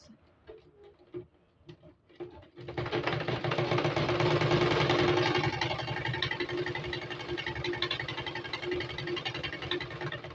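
A sewing machine stitches folded fabric for a turban cap, starting after a few soft handling clicks, then running in a steady fast whirring patter at close range before easing slightly toward the end.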